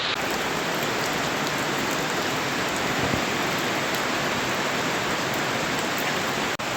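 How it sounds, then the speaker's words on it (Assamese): Steady rain falls during a trip, a thick unbroken hiss of drops on surfaces filling the whole span at an even, fairly loud level with no voices. "দেখিছেনে বৰষুণৰ শব্দ"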